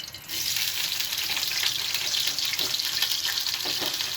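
Food frying in hot oil on a stovetop: a steady, dense, loud sizzle that holds evenly throughout with no talk.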